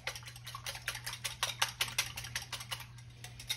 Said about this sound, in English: We're going to mix our eggs up in here.